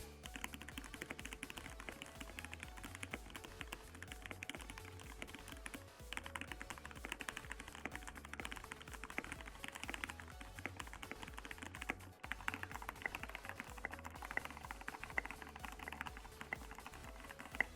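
Fast, steady clacking of a mechanical keyboard runs throughout, in three stretches using different keycaps, whose tone shifts slightly from one to the next.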